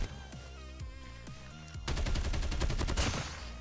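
RPD light machine gun from COD Mobile firing a sustained automatic burst, loud rapid shots rolling together into dense gunfire over game sound effects, with no talking.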